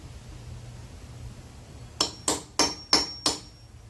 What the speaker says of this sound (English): let me get a hammer, a little chisel here. Let me see if we can just hammer it straight down